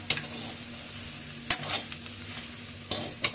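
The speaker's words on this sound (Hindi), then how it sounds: "इसमें फ्राई हो जाएंगे। ये मसाला है तो इसमें फ्राई हो जाएगा अच्छे से।" Chickpeas frying in a spice masala in oil give a steady, soft sizzle, and several sharp scrapes of a spoon stirring the pan break in at intervals.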